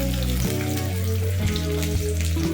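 Cumin seeds and garlic frying in hot oil for palak paneer, a dense, loud, continuous sizzle close up with no pauses.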